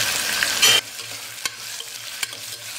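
Onion and green chilli hit hot oil in a pan for a vegetable kurma, a brief loud sizzle and stir at the start, then quieter crackling with a couple of sharp ladle taps.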